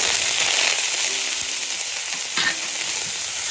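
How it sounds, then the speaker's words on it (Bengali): Chopped onion frying in hot oil for a masoor dal bharta gives a steady, close, dense sizzle that holds evenly throughout, with no voices. "এই কুচনো পেঁয়াজটা দিয়ে দেবো।"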